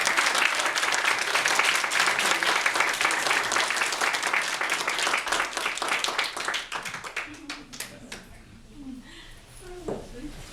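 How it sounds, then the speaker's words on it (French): An audience applauds an event host, dense clapping for several seconds that thins into scattered individual claps and fades, with a voice speaking faintly afterward. "On l'applaudit."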